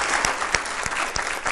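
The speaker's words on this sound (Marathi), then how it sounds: "एकदा जोरदार टाळ्या वाजवूया." An audience claps together in a brief, dense burst of applause, a steady close wash of many hands with a few louder individual claps standing out.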